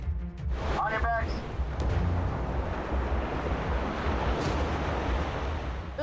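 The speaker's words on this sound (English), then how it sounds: "Arms linked, bodies rigid, fully exposed to the breaking waves." Ocean surf breaking in a steady broadband roar, loud and close with wind buffeting, and a brief voice shouting near the start during Navy SEAL training in the waves.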